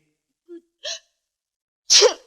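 A woman sneezes in a scene from a Hindi film: two small breathy build-up sounds, then one sharp, loud sneeze burst, alone in silence.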